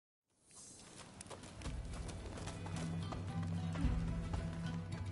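A horse's hooves clip-clop in the game Rise of the Ronin, starting suddenly and settling into a quick, steady rhythmic trot of close, distinct hoof taps against a faint background.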